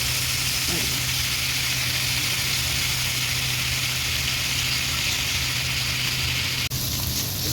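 Chicken kebab frying in a pan gives a constant, even sizzle that fills the whole stretch, loud and close, with one brief break near the end.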